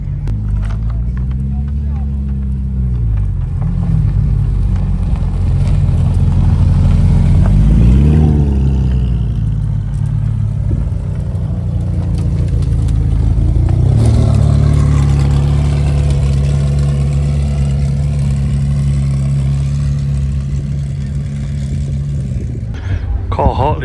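A Porsche 911 police car's engine at a supercar festival, a steady mid-to-low rumble rising and falling as it idles and revs, heard close amid constant crowd noise and people talking.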